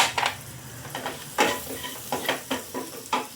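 Sautéed vegetables stirred in a pan with chili flakes and mixed herbs for red pasta, a low sizzle broken by repeated scraping strokes, close and with no talk.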